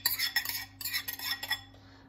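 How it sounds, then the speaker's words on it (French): Spoon stirring millet together with spinach in a bowl, giving a quick series of soft scraping clinks close by, with no one speaking. "on va mélanger le millet"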